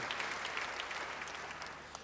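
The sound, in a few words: applause in church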